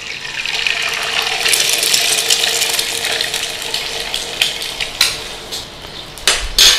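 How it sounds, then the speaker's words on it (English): An egg cooks inside a 4-inch cookie ring in a hot pan for corned beef hash, giving a steady close sizzle broken by a few sharp clicks and taps near the end. "And we're going to crack our egg in there."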